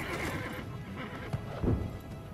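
Horse neighs in the Assassin's Creed Brotherhood video game, a short whinny rising near the end over a steady low background hum, fairly faint and alone without talk.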